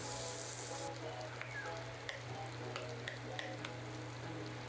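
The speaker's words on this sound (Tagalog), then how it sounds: "Ilagay yung natitirang butter and tunawin." Butter melting and sizzling in a pan for garlic butter shrimp, a steady close frying hiss with a few soft pops and crackles throughout, no talking.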